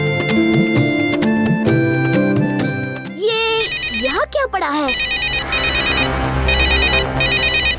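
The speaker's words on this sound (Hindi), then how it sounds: "किसी का मोबाइल फोन है। ये तो चल भी रहा है।" A mobile phone ringtone plays in an animated kids' cartoon set in a forest, a loud repeating electronic melody that cuts in and out in bursts, with a character speaking briefly partway through.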